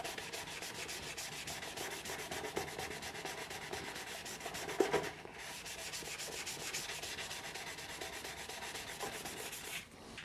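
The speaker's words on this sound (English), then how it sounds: "So we'll go with the little soft hand pad there and just get that bit rubbed in." A soft hand pad rubs back and forth along the edge of a scratch-built guitar body, giving a steady faint rhythmic sanding hiss with a brief pause near the middle; close and quiet, no talk.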